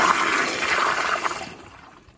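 A Toto CT705 toilet flushes on a piston flushometer, a loud, close rush of water that holds steady and then tapers off toward the end.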